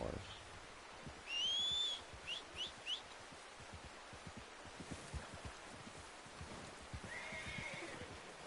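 A horse in Red Dead Redemption 2 lets out a single high whinny, followed by a few short snorting neighs and rhythmic hoofbeats drawing closer, with faint birdsong in the background.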